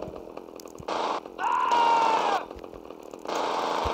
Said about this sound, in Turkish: Testere güzeldir